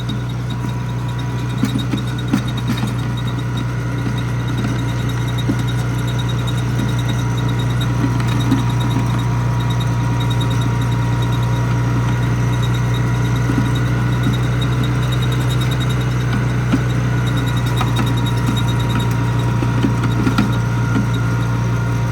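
A Cub LoBoy tractor engine runs steadily while working on a farm, a low constant idle-like drone with a strong even hum and faint mechanical rattles, no talk, lasting the whole stretch.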